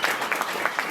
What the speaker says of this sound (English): let's give the Mayor a big round of applause